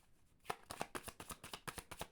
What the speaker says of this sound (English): It's shuffling.